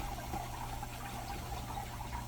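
Water runs through a filter into a box van's plumbing, a faint steady trickle and pour with a low hum beneath it and no voices.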